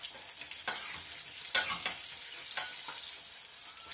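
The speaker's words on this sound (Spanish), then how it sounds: "vamos a dejar que se frían, que estén doraditas" Torrijas frying in hot oil give a steady crackling sizzle, mid-loud, with a few sharper pops and stirring scrapes, no voices.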